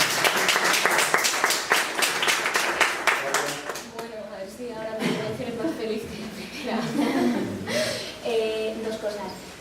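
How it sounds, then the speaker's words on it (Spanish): An audience at a 2011 roundtable on the 15M movement and art bursts into brisk applause for about four seconds, then the clapping fades under a nearby voice and scattered murmuring. "También tiene aplausos"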